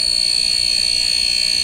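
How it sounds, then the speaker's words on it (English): An Etcon LT130 lamp and voltage tester gives a steady, harsh electrical buzz that drones on continuously at one pitch, loud and close, with no pauses or voices. "you get a quite annoying buzzing sound"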